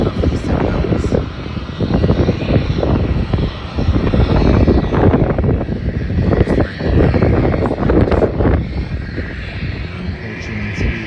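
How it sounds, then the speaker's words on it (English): Singapore Airlines airliner taking off, a loud roaring rush of jet engines heard from a distance at an airport, steady and sustained, with wind buffeting the microphone and a voice talking over it. "looks like the Singapore Airlines flight is taking off shortly as well"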